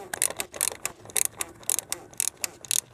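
A 27mm socket on a ratchet tightening the oil filter housing of a Volvo V50, with a steady run of quick clicking bursts, close and fairly quiet, no talking.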